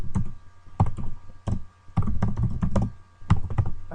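Keys clack on a computer keyboard in short bursts of close, crisp taps separated by brief pauses, no voices.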